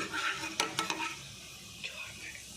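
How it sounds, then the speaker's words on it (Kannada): Fenugreek seeds frying in a spoonful of oil, a soft close sizzle with a few quick scrapes of a spoon against the pan, brief and fairly quiet. "ಮೆಂತ್ಯ ಒಂಚೂರು ಫ್ರೈ ಮಾಡ್ಕೋಬೇಕು"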